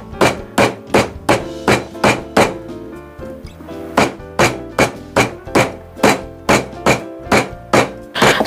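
Beef slices are pounded flat for daging gepuk in a long run of sharp, heavy thuds. The blows are close and loud and land at a brisk, regular rhythm of about two to three per second, with a brief lull partway through.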